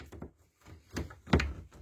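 On a 2018 Laika Kreos 5009 motorhome, the rear door latch releases with a few quiet clicks and soft thunks, ending in a firmer knock, with no talking.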